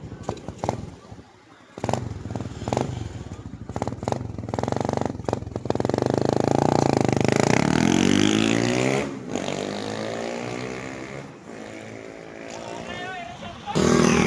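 A motorcycle engine with a newly fitted carburetor being tuned revs up loudly and close, rising and holding at high pitch before easing back and blipping again.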